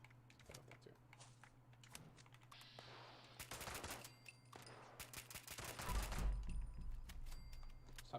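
Rapid gunfire bursts hitting a house in the video game Fallout 76, loud crackling volleys that build in intensity toward the end over a steady low game hum.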